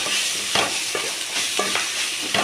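Curry leaves and drumstick leaves sauté in a pan for chutney, a loud continuous frying hiss with a rhythmic series of spatula scrapes and stirs, close up and with no talking.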